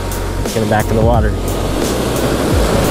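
Ocean waves breaking on a sandy beach at a surf-fishing spot make a loud, continuous rushing wash, with a brief voice speaking over it early on.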